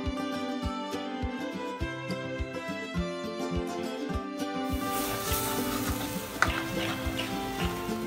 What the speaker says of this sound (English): Now roast the paste well in the pan for at least 5 to 6 minutes